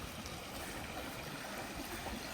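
A village stream flowing strongly, a faint, steady rushing wash of water with no pauses, heard from a short distance with no talking.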